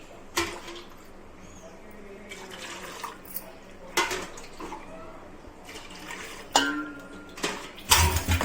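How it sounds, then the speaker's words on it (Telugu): Water is poured glass by glass into a vessel of soaked bombay rava for making vadiyalu, giving several separate splashing bursts with small clinks between them over quiet room noise. "ఇప్పుడు దీనిలో ఒక రవ్వకు 9 గ్లాసుల నీళ్ళు వేసుకోవాలండి."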